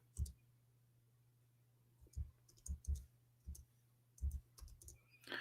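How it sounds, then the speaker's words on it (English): Someone types on a computer keyboard, with quiet, irregular clicks and short bursts of keystrokes separated by pauses over a faint steady hum. "No, I'm typing in Arabic."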